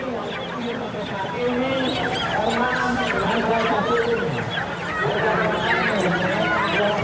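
Live chickens handed out at a poultry farmers' protest in a busy city square, clucking faintly amid a loud, continuous crowd of chattering people.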